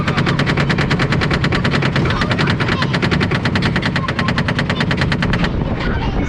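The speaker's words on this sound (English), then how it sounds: "It's a bit of a noisy lift hill there." The lift hill of a rooftop roller coaster at Adventure Island clatters loudly, a fast, even stream of mechanical clicks that runs for several seconds before stopping near the end.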